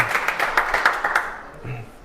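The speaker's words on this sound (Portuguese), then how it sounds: "Uma salva de palmas para o professor Fabiano Gomes" A short burst of audience applause for a teacher at a talk on ancestral ethics, moderate clapping lasting over a second before a brief pause and a faint voice.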